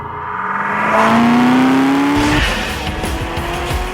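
A Chevrolet Camaro SS with a 6.2-litre V8 drives hard, its loud engine roar and a rising pitch carrying a long, sustained tyre squeal before it settles into a rougher rumble.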